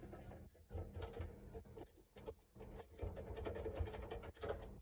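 Screws being unscrewed on a Burns Cases Omega model computer case produce faint, close ratcheting clicks and small mechanical rattles in an irregular rhythm.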